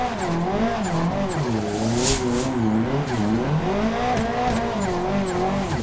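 A race car engine in a sim racing game revs continuously, climbing and dropping in pitch through gear changes, loud and close with a brief hiss partway through and no voices.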